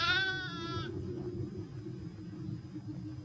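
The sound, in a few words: sheep bleating in snow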